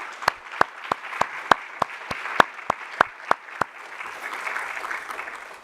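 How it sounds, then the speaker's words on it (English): Applause for organisers at a First World War history conference, opening with a dozen loud, evenly spaced claps from one nearby person, then fading into softer scattered clapping from a small audience. "they all clearly deserve a warm hand of applause"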